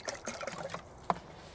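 Water trickles and splashes as it is poured into a container for bread dough, outdoors in the woods. The pour is close, light and uneven, with a brief clunk near the end.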